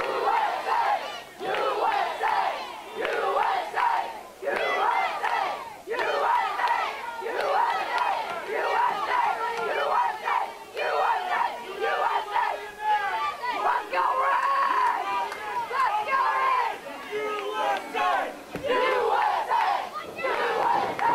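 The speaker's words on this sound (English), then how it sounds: "Ray Rowe trying to rile up this crowd" A wrestling crowd at an NWA Houston championship match roars, cheers and shouts in loud, continuous waves, with chanting bursts rising and falling throughout.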